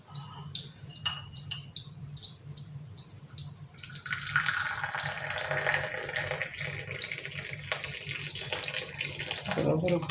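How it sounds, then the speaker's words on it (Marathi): Black tea is strained and poured into a cup, a steady trickling and splashing of liquid that builds in strength midway, close by, with faint clinks and a voice speaking over it. "तर आता आपण गाळून घेऊ."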